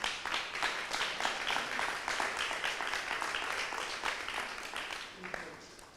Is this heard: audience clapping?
yes